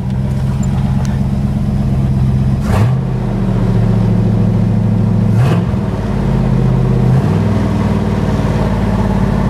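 Engine of a 1975 Ford F-250 Highboy 4x4 running steadily with a deep, loud idle, blipped a few times so the rumble briefly rises and falls before settling back.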